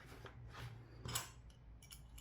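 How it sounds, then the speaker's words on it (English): Scissors snip through fabric for a cork tote bag in a few quiet, close, crisp cuts, the blades closing with brief metallic crunches. "I can bring in my scissors. Makes it a little bit easier."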